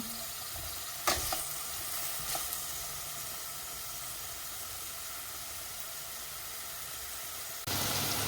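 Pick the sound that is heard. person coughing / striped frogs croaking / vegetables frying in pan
vegetables frying in pan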